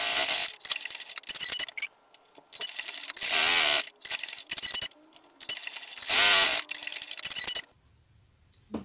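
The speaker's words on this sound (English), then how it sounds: "So I'm going to top stitch these one at a time." A sewing machine top stitching a compact accordion wallet runs in short close bursts of rapid mechanical clatter, stopping and starting several times with quiet gaps of handling between runs, no speech.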